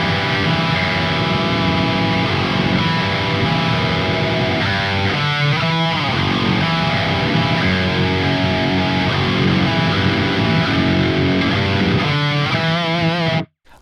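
Loud, saturated electric guitar through the Neural DSP Archetype Gojira plugin, dense sustained chords and riffing with a brief pick-scrape flourish, continuous and close before cutting off.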